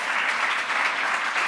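An audience claps for sound designer Nacho Arenas, a continuous, fairly loud roll of many hands that fills the room evenly from start to finish.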